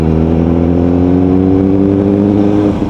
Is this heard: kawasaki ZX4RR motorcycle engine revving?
yes